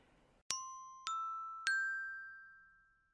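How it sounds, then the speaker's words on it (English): A bell rings three times in quick succession, each a clear, bright strike that rings on and slowly decays, with the last tone lingering alone. "That's the bell."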